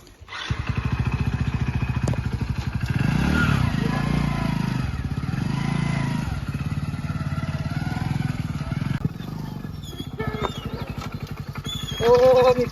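A motorcycle rides along with its engine thrumming in a fast, steady firing rhythm, loud and close throughout; a voice speaks briefly at the end.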